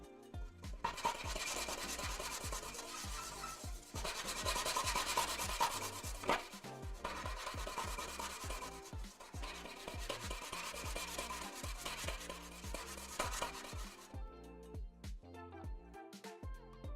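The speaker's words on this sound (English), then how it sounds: "let's get sanding." Hand sanding with 240 grit sandpaper while converting an Ender 3 Pro 3D printer to a Switchwire, heard as steady, close back-and-forth scratchy rubbing strokes in a quick repeating rhythm, quiet and with no talk.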